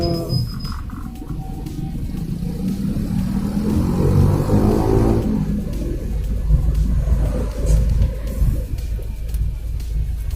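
A manual car reversing out of a garage toward the road, its engine held at a steady throttle: a continuous low rumble and drone with slight rises in pitch, close and loud.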